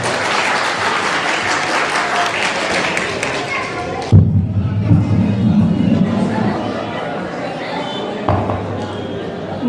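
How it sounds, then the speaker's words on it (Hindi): A crowd at a district-level youth parliament event in Madhepura applauds loudly and continuously to welcome a speaker, then the clapping drops off sharply into a thud and room chatter, with a second, smaller burst later. "आप लोगों से आग्रह होगा कि जोरदार ताली से इनका स्वागत करें।"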